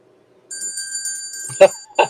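A steady high electronic bell tone rings continuously with a second pitch beneath it, while brief voices break in near the end.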